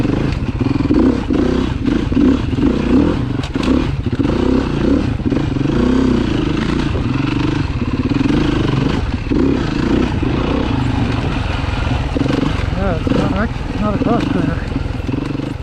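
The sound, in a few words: four-stroke dirt bike riding on rocky track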